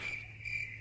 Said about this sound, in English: You have to turn the crickets off.